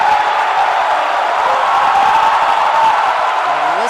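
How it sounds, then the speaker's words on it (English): A basketball crowd roars steadily for Metamora during a game against Marmion Academy, a dense, continuous wall of cheering that holds at a loud level throughout with no distinct voices standing out. "listen to this crowd for Metamora as they can sense it."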